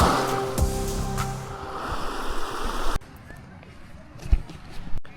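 Waves of the incoming tide wash onto an island beach in a steady rush of surf, loud and close for the first few seconds, then quieter and more distant, with a few brief thumps.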